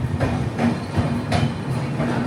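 A sleeper-class coach of the Mangala Lakshadweep Express runs on the rails, a steady low rumble broken by regular clickety-clack beats about every half second, close and continuous with no talk.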